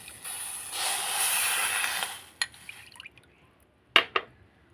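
Water is poured into a bowl of sugar for syrup in a steady splashing stream for about two seconds, followed by a few sharp knocks and drips, close by.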